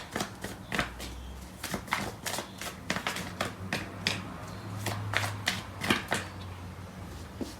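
Tarot cards are shuffled for a reading, with a series of crisp riffling and snapping bursts, each under a second long, repeating at an uneven rhythm, close and clear with no voices.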